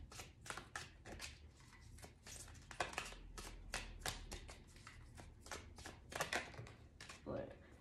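An oracle card deck being shuffled by hand before a tarot reading, with repeated crisp riffling and tapping bursts in an irregular rhythm, close and fairly quiet throughout.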